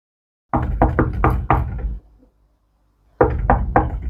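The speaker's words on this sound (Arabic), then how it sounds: "دي خبطه زوزو. جيداء افتحي الباب" Knuckles rap on a home's door in two loud, close bursts: five quick knocks, a pause of about a second, then three or four more, with nothing else heard.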